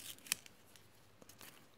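A single sharp snip of scissors trimming material while unboxing a June 2019 Bloomsical haul, close and crisp, followed by faint rustling and light handling noises.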